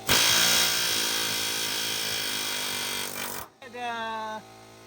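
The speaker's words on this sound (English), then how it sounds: "we're gonna go ahead and move right along to chopping these rivets out and getting this hanger off the frame" A power drill bit chews through frame rivets on a 1980-1996 Ford F-150 during a leaf spring hanger replacement, a loud, harsh grinding roar that runs for a few seconds, then stops and briefly whines back up.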